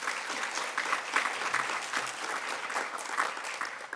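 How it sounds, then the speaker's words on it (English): An audience at a foundation's annual meeting in a performing arts centre gives a round of applause, dense steady clapping with a few louder swells, sustained for the whole stretch. "So let's also give them a round of applause."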